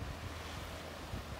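Sea waves wash and rumble steadily, a soft broadband surf roar mixed with some wind buffeting, faint and continuous with no voices.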